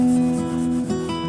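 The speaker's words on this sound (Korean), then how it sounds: "그리고 빼빠 사포 작업하면은 높은 데를 약간 깎아내겠죠." Sandpaper is rubbed across the lacquered body of a handmade guitar, giving close, continuous scratchy friction strokes over a steady background hum.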